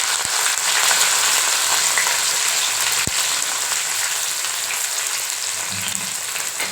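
Crushed garlic and sliced onion fry in a pan for a mango and fish-head curry, giving a loud, steady, rain-like sizzle that runs unbroken with only a couple of faint knocks.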